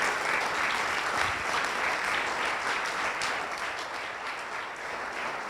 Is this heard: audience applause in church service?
yes